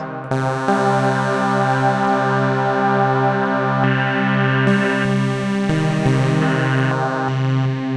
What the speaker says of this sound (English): A lo-fi mode, so reducing sampling rate.